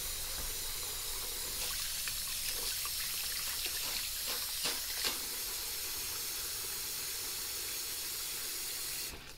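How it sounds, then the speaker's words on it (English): Warm water runs from a tap into a pot in a steady soft hiss, with faint scattered clinks and knocks, while preparing a pressure canner for canning chicken. "I'm gonna fill that pot up with some warm water."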